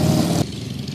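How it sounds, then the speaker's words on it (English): A very noisy motorcycle passes close by, its engine loud at first and then dropping off abruptly as it moves away, leaving a lower rumble fading behind. "after this very noisy motorcycle passes us by"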